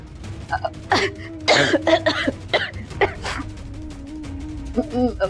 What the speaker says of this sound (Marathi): मला ना खोकला येतोय